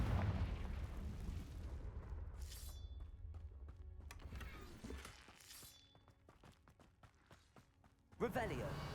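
Confringo fire spell blasts in Hogwarts Legacy, several sharp bursts and crackling impacts scattered over quiet ambience, with a louder burst near the end and a voice speaking in between.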